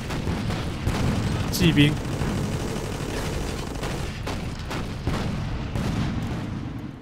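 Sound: anti-tank gun firing in Toy Soldiers video game

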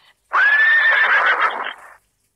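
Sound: horse neighing

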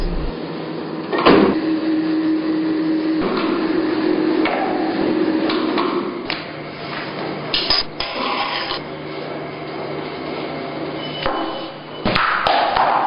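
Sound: machine rolling out pastry dough

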